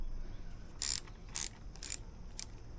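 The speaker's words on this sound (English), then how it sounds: "your 10 millimeter socket is to take the top off here" Four short, crisp ratchet clicks from a 10 mm socket loosening a bolt on a Mercury 9.9 hp two-stroke outboard engine, quiet and close with brief pauses in between.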